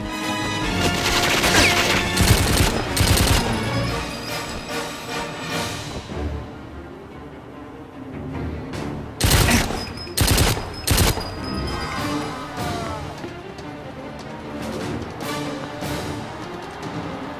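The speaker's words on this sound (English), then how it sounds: "I really do like this gun." Loud gunfire and crashing impacts fill a GoldenEye 007 Wii level in bursts, with heavy clusters early and a few sharp shots near the middle. Game sound carries on between the volleys.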